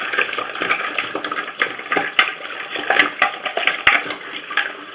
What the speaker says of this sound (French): Voilà, on gratte et on rince.